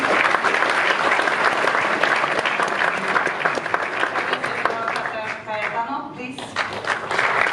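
A conference audience at the ITS European Congress plenary session in Lisbon gives sustained, dense applause to welcome a speaker onto the stage, loud and continuous with a brief dip partway through.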